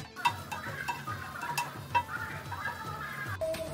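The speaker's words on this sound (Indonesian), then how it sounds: "Kemudian kita tambahkan sedikit asam dan setengah sendok teh gula pasir. Dan diaduk-aduk lagi." A spoon scrapes and stirs ayam kecap with tamarind and sugar in a pan, giving a series of close, irregular clinks and scrapes over a soft low sizzle.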